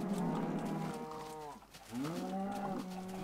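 Cows moo in the Minecraft video game, with several long, loud, drawn-out calls one after another and a short gap in the middle.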